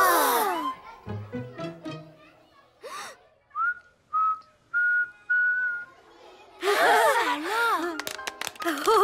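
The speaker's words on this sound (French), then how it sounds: "Tu as appris à siffler." A child whistles a few short, clear sustained notes one after another, each tone slightly higher, with animated cartoon voices talking before and after the whistling.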